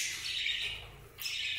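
Pet birds feeding on natural food chirp and tweet in bright, continuous high calls, close by and fairly quiet, with a short pause before the chatter resumes.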